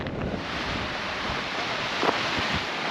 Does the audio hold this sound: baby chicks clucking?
no